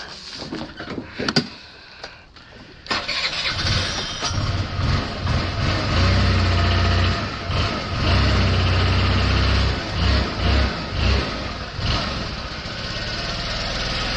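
An old vehicle nicknamed Bumble, running cold, cranks briefly with a few clunks and then catches, settling into a steady, loud, rumbling idle that carries on close by with no talking.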